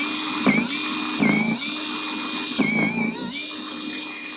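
A SiLVEL 40V cordless power snow shovel clears snow, its electric motor whining steadily while three or four surges of louder scraping and churning come as it bites into the snow, heard up close.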